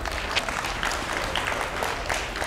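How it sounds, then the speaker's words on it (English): Applause for parents at a high school National Signing Day event, a steady wash of clapping from a modest crowd that sounds a little distant and muffled, with no voices over it. "give a round of applause to your parents"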